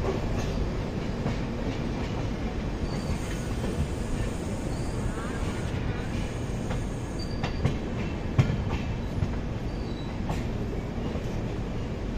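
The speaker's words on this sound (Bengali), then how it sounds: "আমাদের ট্রেন ছেড়ে দিয়েছি বিলাসপুর থেকে" The Azad Hind Express rolls along, heard from inside an AC 3 tier coach: a steady, dense rumble with faint rail clatter and occasional light clicks throughout.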